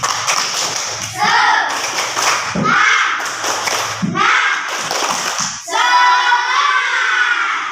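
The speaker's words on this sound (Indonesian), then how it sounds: "Coba tepuk semangat dulu" Schoolchildren in a classroom chant and clap a rhythmic spirit clap together, bursts of group voices punctuated by sharp unison claps in a patterned beat, ending on a sustained shout.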